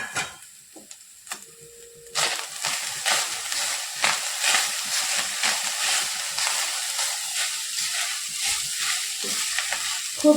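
Grated fresh coconut roasts in a pan on a low-to-medium gas flame for fried modak filling, a soft dry sizzle with rhythmic stirring scrapes beginning after a quiet start, close and moderately loud, no talking.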